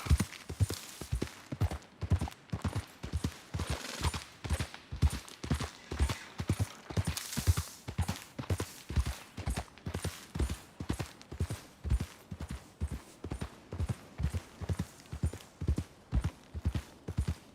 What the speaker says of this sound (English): What you been feeding that horse?